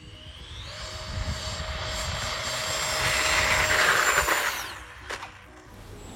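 Freewing F/A-18E 64mm electric ducted-fan RC model jet on a 4S battery, a high whining roar that swells as it passes close, peaks, then fades quickly into the distance, with no talk.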